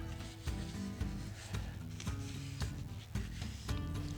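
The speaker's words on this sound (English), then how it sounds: "I'm going to put some black wax onto it just to fill the grain up a touch." Black wax being rubbed onto a sycamore and oak pedestal bowl on a wood lathe, giving a steady close scrubbing friction with regular soft knocks about every half second.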